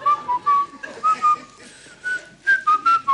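A person whistles a bird-like tune imitating a finch calling its mate, with short clear chirps and trills in quick bursts, close and loud in a TV studio setting.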